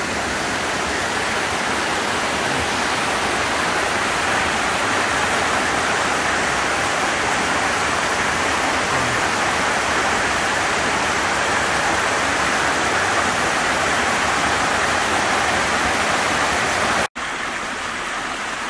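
Small forest waterfalls on a stream running toward the ocean pour in a loud, dense, unbroken rush close by, steady for the whole stretch apart from one sharp click near the end.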